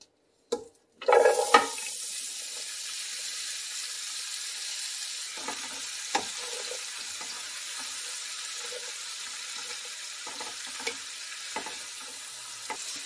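Vegetables hit hot oil in a pot with a sudden loud burst of sizzling that settles into a steady hiss, broken by occasional stirring clicks and knocks.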